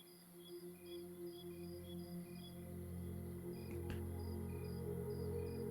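Crickets chirp in regular, faint, repeating pulses over a low, steady ambient hum, with no voices present.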